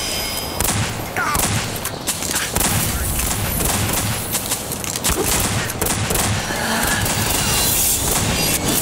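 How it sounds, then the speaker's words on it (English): Rapid, overlapping gunfire from many Annabelle shotguns in the video game Garry's Mod, a dense and loud barrage that lasts the whole time with a faint voice underneath. "Keep firing away with the Annabelle shotgun."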